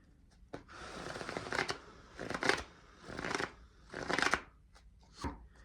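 Tarot cards are shuffled by hand in several soft, riffling bursts with brief pauses between them, close and quiet, with no talking.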